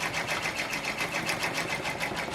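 An embroidery machine running at 600 stitches per minute lays down stitching on an organza sunflower coaster, giving a steady, fast, evenly pulsing mechanical chatter close by with no talking.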